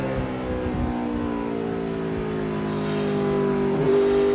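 Inside a 2004 NASCAR Craftsman Series race truck, the engine holds a loud, steady droning note that swells slightly toward the end as the truck accelerates, with no talk over it.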